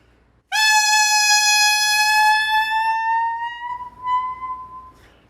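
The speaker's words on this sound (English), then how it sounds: "that's the sound of your note going sharp." A lone saxophone mouthpiece sounds a bright, piercing note that slowly slides upward in pitch as it is held, then breaks off after about four seconds.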